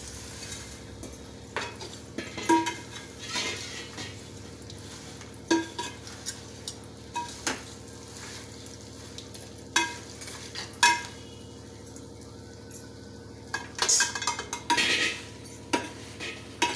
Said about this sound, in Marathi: हे आता पोहे आपण ह्याच्यात घालून एकसारखं हलवून घ्यायचं